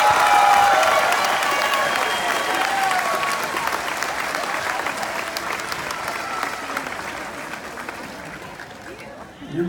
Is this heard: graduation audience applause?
yes